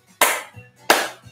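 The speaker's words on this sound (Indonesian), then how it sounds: "tepuk tangan dulu bang" Two loud, sharp hand claps spaced about seven tenths of a second apart, close and dry, each followed by a faint soft tap.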